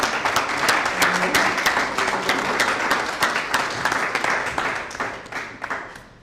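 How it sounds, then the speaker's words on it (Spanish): A room full of people at a conference claps steadily, a dense patter of many hands that carries on throughout and thins slightly toward the end. "Vamos a dar un aplauso."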